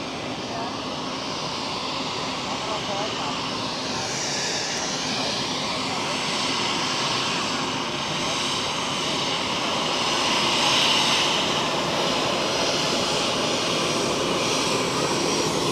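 A KLM airliner passes at Zurich Airport, its engine roar steady and loud throughout, swelling slightly near the end as it goes by.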